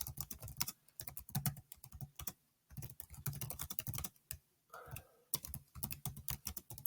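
Rapid keystrokes clatter on a computer keyboard in quick bursts, broken by short pauses, close and crisp with no voice over them.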